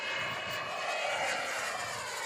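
A radio-controlled model airplane engine in flight, a steady high buzzing drone held at constant loudness throughout, no voices.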